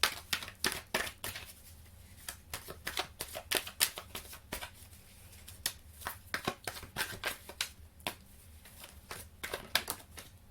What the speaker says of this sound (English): I'm going to hand shuffle another tarot card deck for you guys